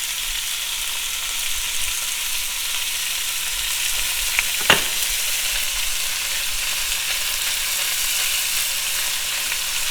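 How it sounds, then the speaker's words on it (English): Green chili frying in a hot pan and being stirred, a steady close sizzle filling the whole stretch with one sharp scrape of the utensil midway and no talking. "Stir that so it doesn't completely stick."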